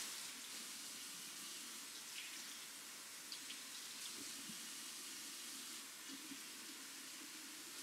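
About a cup of tap water runs in a kitchen while pizza dough is being made. It is a faint, steady hiss of flowing water that lasts throughout without a break.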